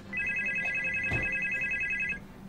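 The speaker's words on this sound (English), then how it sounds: "There's a phone?" A telephone rings in the Roblox video game, a steady electronic double-tone trill running for about two seconds, loud and alone, with a brief muffled thump partway through.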